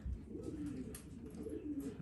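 Breeding pigeons in separate cages upstairs coo softly, with low repeated rolling calls close by in a quiet room and no speech.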